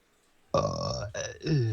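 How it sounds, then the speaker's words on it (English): A single loud, drawn-out burp, close and dry, with a brief break and a deeper throaty tail. "There's a burp."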